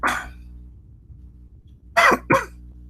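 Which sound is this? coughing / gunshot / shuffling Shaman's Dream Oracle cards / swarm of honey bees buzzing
coughing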